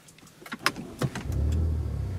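A 2013 Ford Fusion Titanium engine with the muffler removed cranks and catches, settling into a low, steady idle after a few clicks and mechanical clunks.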